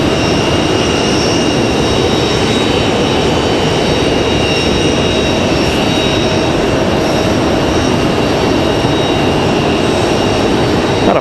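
An American Airlines Airbus A319-100 jet arrives at Raleigh-Durham International on a short flight from Washington Reagan, a steady broad engine roar with a high whine held at constant loudness throughout, no voices.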